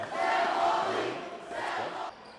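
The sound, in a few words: high school basketball crowd chanting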